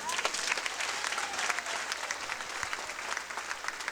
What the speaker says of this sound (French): Si vous êtes d'accord avec moi, vous allez applaudir.